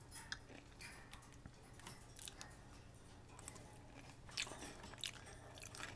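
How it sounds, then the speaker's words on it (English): Someone chews food with faint, close crunches and bites at an irregular pace, a quiet mouth sound heard alone without talking. "Sorry if my crunching is bothering the two of you."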